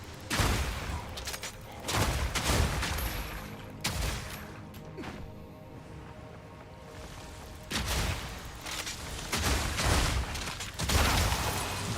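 Spell explosions in the action RPG Path of Exile 2, a string of heavy bursts and crackling blasts in irregular clusters with rattling, mechanical game effects between them.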